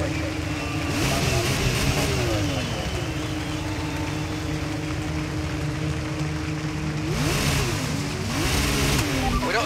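Formula 1 car engines in the F1 23 video game roar and rev at a race start, a steady engine drone with rising and falling pitch sweeps, mixed with a speaking voice throughout.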